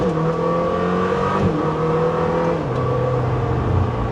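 A Lamborghini Temerario engine runs with a steady close drone, pitch shifting slightly as it revs, with no talking.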